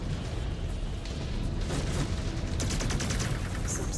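Mechs blowing apart in the Mechwarrior 5: Clans video game, a dense run of booming blasts and rattling gunfire that rolls on without pause, loud and close, with a sharper burst of crackling detonations late in the sequence.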